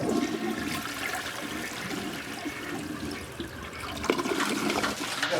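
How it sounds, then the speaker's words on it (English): A toilet flushes upstairs above a basement under renovation. Water rushes loud and steady through the pipes for several seconds, then trickles as the tank refills. "The family upstairs just flushed the toilet."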